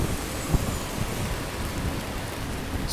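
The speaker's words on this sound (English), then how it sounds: "It's really windy and rainy and cold" Steady rain falls outdoors in New York City with gusting wind, a dense continuous hiss at a moderate level with no voices.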